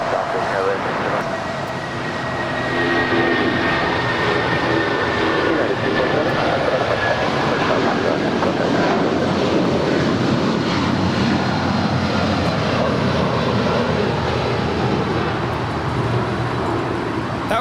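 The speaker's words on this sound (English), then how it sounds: "That was United 247 departing to Newark Liberty. It's a 27-year-old 757-200." A 27-year-old United Airlines Boeing 757-200 departs LAX on runway 25 right, bound for Newark. Its loud, steady jet roar fills the whole stretch, swelling slightly after the start, with a faint whining tone sliding downward.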